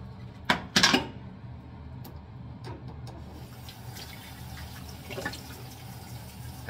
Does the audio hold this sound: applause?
no